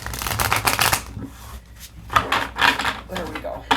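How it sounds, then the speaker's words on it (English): A large tarot card deck being shuffled in the hands, bursts of riffling and rubbing card noise close to the mic, pausing briefly before resuming in uneven strokes. "We'll just do a big shuffle too."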